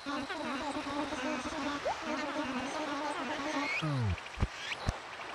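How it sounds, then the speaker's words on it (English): Walker cicada from the Animal Crossing video game, a faint steady buzzing drone with rhythmic pulses, joined near the end by short sliding and popping game sounds. "A walker cicada."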